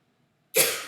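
A single sharp cough bursts out close and loud after a moment of near silence, the only sound heard.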